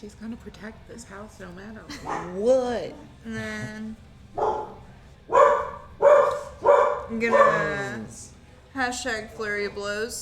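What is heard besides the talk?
dog barking in the room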